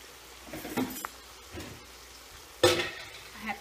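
Cabbage leaves get stirred in a cooking pot, a few soft scraping and clinking strokes spread over a few seconds, with the louder stroke near the end, close by and otherwise quiet.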